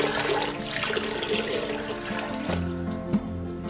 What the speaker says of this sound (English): We're going to add water up to the fill line.